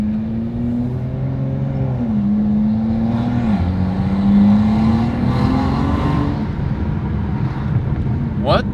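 A BMW 435i with an xHP Stage 3 transmission tune cruises in normal driving, its engine a steady, moderate drone that rises slightly in pitch, under constant wind and road noise heard from inside the car.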